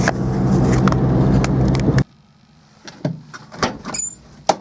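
A car drives on a rural road, its engine rumbling loudly for two seconds before cutting to a quieter cabin broken by several clunks and knocks, like a door or other parts of the car.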